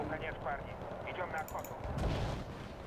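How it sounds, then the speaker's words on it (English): Bomb blast in the war strategy game Wargame: Red Dragon, a dense rumbling roar of explosions and gunfire with a deep thud toward the end, while a voice talks over it. "Hopefully this bomb goes good."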